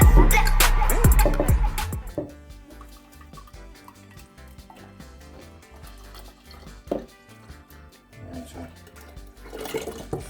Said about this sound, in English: I'll be putting this in my jug.